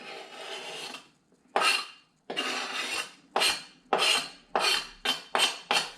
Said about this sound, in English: Now I'm going to drop all these chunks of mango in there.